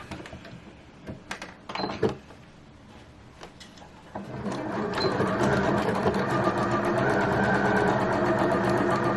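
Sewing machine stitching dress pieces with a normal stitch: a few scattered clicks and handling knocks, then the motor starts and runs in a steady, close, continuous whir for the last five seconds.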